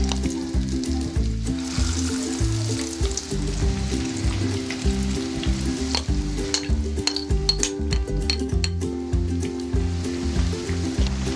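Potato lachha pakoras frying in hot oil, a dense continuous bubbling sizzle with occasional stirring scrapes, close and loud throughout with no talk.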